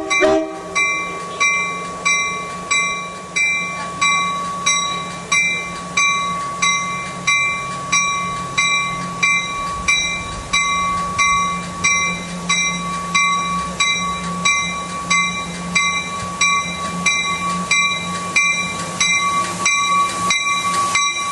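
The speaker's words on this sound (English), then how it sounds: "the train reverses direction and leaves the station the same way it came in" An Altamont Corridor Express train reverses and pulls out of a station, a continuous loud rumble with a steady horn tone and a rhythmic clatter of wheels over rail joints repeating throughout.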